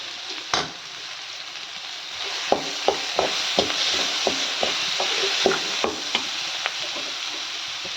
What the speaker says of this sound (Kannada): ಚಿಕನಿಗೆ ಚೆನ್ನಾಗಿ ಫ್ರೈ ಮಾಡ್ಕೋಬೇಕು ನೋಡಿ ಫ್ರೈ ಆಗ್ತಾ ಇದೆ